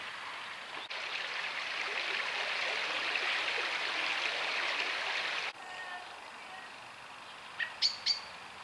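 The Wallop Brook, a small Hampshire stream, flows with a steady soft rush at moderate distance on a village walk, and a few brief bird chirps come through near the end, with no talk.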